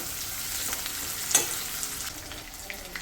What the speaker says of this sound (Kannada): ಈರುಳ್ಳಿ ಫ್ರೈ ಮಾಡ್ಕೊಳ್ಳೋಣ.